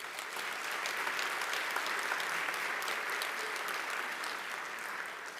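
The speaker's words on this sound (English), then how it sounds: "I would like to give her a round of applause." Graduation ceremony audience applauds a special guest at a university campus hall, a steady, sustained wash of many hands clapping at even, moderate volume for several seconds.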